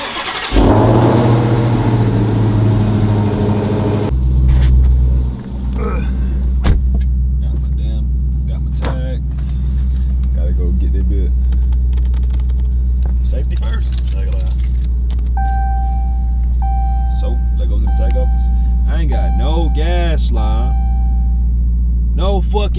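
A Mopar car engine starts cold with a loud burst and then settles into a deep, steady idle rumble that runs on. People talk excitedly over it, and keys jangle inside the car.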